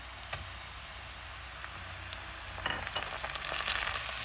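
Onions and tomatoes frying in a karahi, a steady soft sizzle with occasional ticks and stirring scrapes that grow busier toward the end, with no voices.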